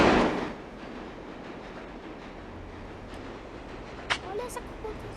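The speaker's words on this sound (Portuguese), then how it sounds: "Vai passar o trem, Rod!" A train passes in a video game, a steady rumbling roll with a louder burst at the start and a few sharp clanks near the end.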